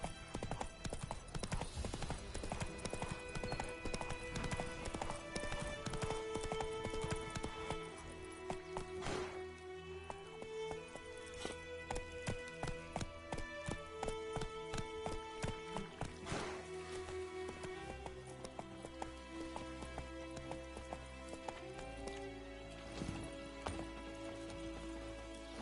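Roach, the horse in The Witcher video game, clip-clops along in a brisk, continuous rhythm of hoofbeats set over steady background music.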